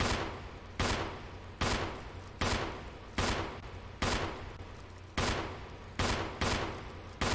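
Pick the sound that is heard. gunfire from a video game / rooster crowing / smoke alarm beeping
gunfire from a video game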